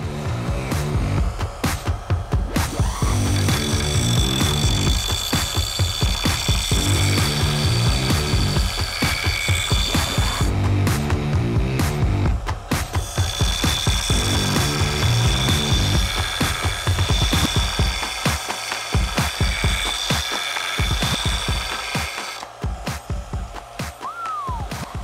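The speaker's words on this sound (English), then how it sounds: "Let's try the El Cheapo sander and see what happens." A cheap electric power sander works over a Harbor Freight axe, giving a loud, close buzzing grind with rapid rattling pulses that keeps going almost without a break and eases off near the end.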